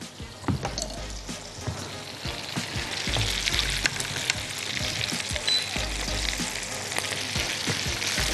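Kofta sizzles and spits steadily in a hot pan, a dense crackling hiss with occasional louder pops, no voices.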